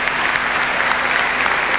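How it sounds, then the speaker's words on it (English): Dense, sustained applause from a large audience at the announcement of the host city for the 2000 Olympic Games, loud and close with no break. "Prince Regent applauding them"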